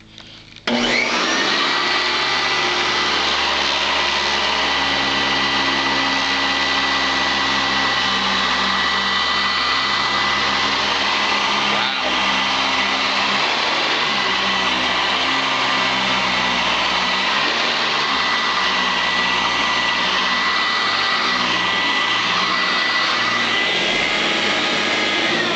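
A Sanitaire SC899 upright vacuum cleaner switches on and runs with a loud, steady motor roar and high whine. The sound stays constant and close for about twenty-five seconds, with no speech.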